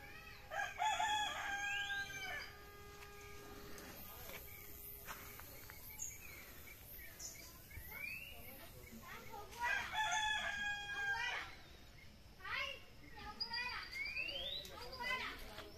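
Rooster crows repeatedly and chickens cluck at the edge of a rural village, with birdsong and insects in the open-air background; the crows come in several bursts spread across the scene.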